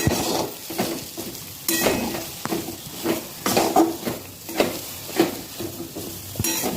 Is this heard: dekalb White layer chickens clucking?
no